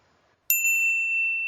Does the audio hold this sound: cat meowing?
no